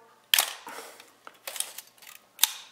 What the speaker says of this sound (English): Did you see the rewind?